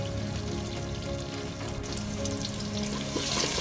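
Onions sizzle in hot oil with cinnamon and cardamom for chicken biryani, a steady, close, crackling fry that runs without pause and with no talking.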